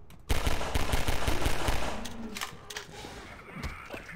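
Sustained rapid-fire shooting in a video game, loud and continuous for around two seconds before tapering into scattered, softer shots and effects.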